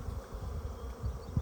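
Honey bees buzzing during a Varroa mite check, a low, steady hum near the microphone with faint fluttering swells, no talking.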